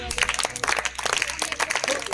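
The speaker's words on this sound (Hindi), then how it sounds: "ताली बजा दो इसके लिए" A class of sixth-grade students clapping for a classmate in a classroom, a dense patter of hands under a teacher's ongoing voice.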